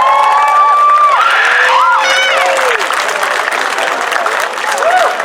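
A crowd applauds and cheers for a local band, dense clapping mixed with whoops and shouting voices, loud and close, sustained across the whole stretch.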